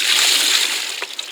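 Koi carp released back into the water with a short splash and slosh, close by, followed by a couple of small drips.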